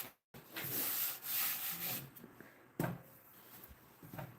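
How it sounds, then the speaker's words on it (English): A hand plane shaves the edge of a wooden board in several sustained rasping strokes, close and moderately loud, followed by a sharp knock and quieter handling sounds. "Planing the edge of this so I don't have too much tear out on the edge"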